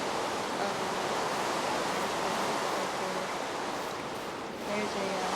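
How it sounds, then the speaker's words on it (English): A small waterfall makes a steady, broad rushing hiss that continues evenly throughout. "nice little sound waterfall right there."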